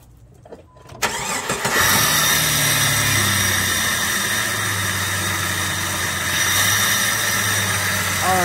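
A Jeep WJ with the 4.0 engine, just fitted with new 12-hole fuel injectors, cranks briefly, fires up and settles into a steady, loud idle that holds for several seconds, close up with no talking.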